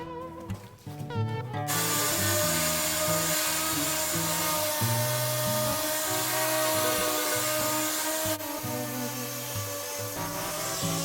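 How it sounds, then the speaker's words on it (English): Power sanding of excess cured epoxy off a wooden boat frame, a loud continuous whirring grind with shifting pitch, close and steady after a brief start. "Sanding is just to remove the excess epoxy."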